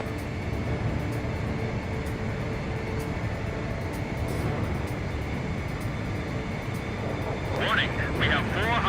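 Fighter jet flying in Ace Combat 5 as a steady, loud engine roar and rumble throughout, with radio chatter speaking over it and a brief chirping tone near the end.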